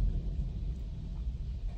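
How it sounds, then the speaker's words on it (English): Thunder rolls as a low, steady rumble through a rainy outdoor scene, muffled and fairly quiet throughout with no distinct crack. "It's thundering and all types of stuff"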